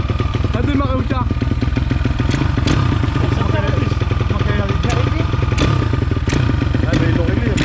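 A motorcycle engine runs close by after months without starting, a loud rough rhythmic chugging idle with clattering mechanical noise, and people speak over it.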